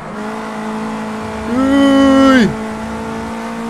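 Race car engine in the racing game Project Cars 2, career mode, held at a steady drone and then revved higher for about a second before dropping back, loud and close, with a short voiced exclamation.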